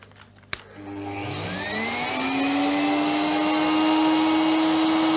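A Miele S7 vacuum cleaner starts with a click, then its motor whines up in pitch over a couple of seconds and settles into a steady, loud, close drone with airy rushing, no voices.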